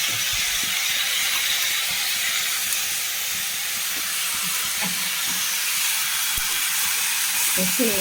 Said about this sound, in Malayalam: നമുക്ക് കഴുകി വൃത്തിയാക്കി വെച്ചിരിക്കുന്ന ക്യാബേജ് ഇട്ട് കൊടുക്കാം വയലറ്റ് ക്യാബേജ്